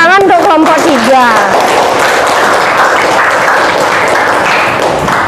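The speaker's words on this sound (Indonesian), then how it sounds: "Kasih tepuk tangan untuk kelompok 3." A class of students applauds a group during a school science lesson, loud, dense and sustained clapping with cheering voices, after a brief burst of talk at the start.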